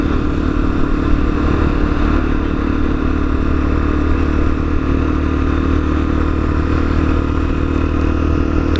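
A Lexmoto Assault motorcycle being ridden, its mid-pitched engine holding a steady, loud drone throughout with a constant rumble and no voices.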